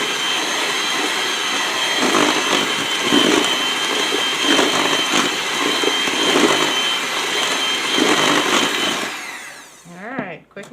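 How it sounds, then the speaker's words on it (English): An electric mixer whirs steadily through keto almond cake batter as heavy whipping cream is blended in, a loud continuous buzz with slight surges, stopping abruptly near the end. "I'm going to mix this up slightly, just enough to mix the whipping cream in it"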